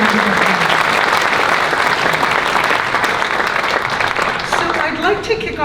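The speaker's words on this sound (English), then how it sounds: "Let's all give them a big round of applause" An audience bursts into sustained, dense clapping that carries on loudly throughout, with a few scattered cheers and crowd noise mixed in as the applause begins to thin near the end.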